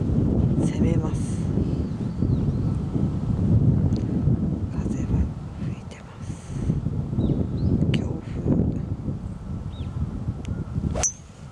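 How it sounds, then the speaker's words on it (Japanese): Strong wind roaring over a golf course during a match-play round, a loud low buffeting on the microphone that rises and falls under steady talking, ending with a sharp knock. "風がすごい。"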